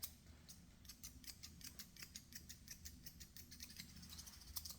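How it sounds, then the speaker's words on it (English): Thinning shears snip through a shih tzu's head hair during grooming, a quick series of faint, crisp metallic clicks in a steady rhythm, close up and quiet. "I'm going to go with my thinning shears over"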